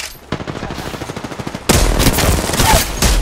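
Enemy gunfire in the Apex Legends battle royale: a steady burst of rapid automatic shots, then a louder, denser volley of overlapping gunfire close by.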